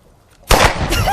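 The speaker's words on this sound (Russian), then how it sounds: "Беру ружье, целюсь и стреляю." A single loud shotgun blast breaks a near silence and leaves a rumbling, ringing decay behind it.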